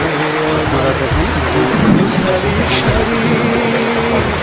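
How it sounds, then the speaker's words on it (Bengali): Heavy rain pours down during a windy storm, a loud, dense, continuous roar of downpour with a faint low rumble beneath it. "অনেক বৃষ্টি হইতেছে এবং বাতাস হইতেছে, বাতাসে ঝড় হইতেছে"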